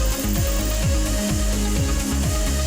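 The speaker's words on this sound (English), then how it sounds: "using a power tool and some screws." A power tool driving screws into wood during assembly of sanded pieces, heard as a steady close whir with repeated rising and falling motor pitch sweeps, loud and continuous with no voices.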